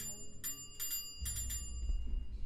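A bicycle bell rings in three quick bursts of bright metallic dings over a low background hum. The first bursts sound cleaner, and the last is rapid and rattling.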